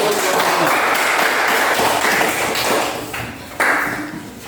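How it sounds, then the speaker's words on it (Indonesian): Students in a classroom give a sustained round of applause before the next group presents, a dense wash of clapping that fades briefly and then swells again near the end. "Tepuk tangan dulu."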